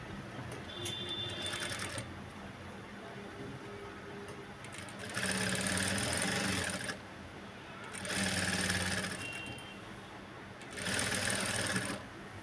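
A sewing machine stitches along the edge of a Punjabi dress top in three separate bursts of steady, rapid whirring, each a couple of seconds long, with a quieter room tone between them.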